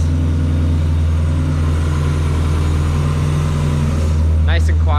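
A Mazda Miata with a replaced cylinder head idles with a loud, droning exhaust, running close and steady with a low rumble, and a brief throttle blip or rising whine near the end.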